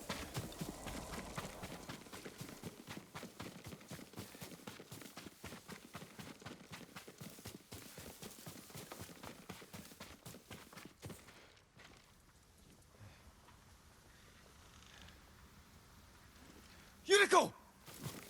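Horse hooves clip-clop in a steady quick rhythm on hard ground in the video game Ghost of Tsushima, fairly close, then slow and fade, followed by a short loud burst near the end.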